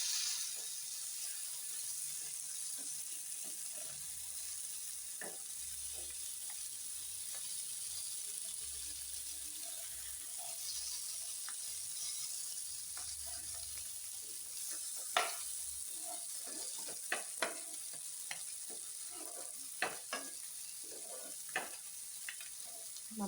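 Sardines frying in coconut oil give a steady, continuous sizzle with scattered sharp pops and crackles, louder spits clustering near the end, and no voices.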